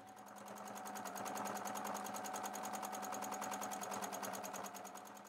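Sewing machine stitching filler around seed shapes in free-motion thread sketching, a fast steady mechanical whir with rapid even needle beats that swells in and fades at the end, with no voices.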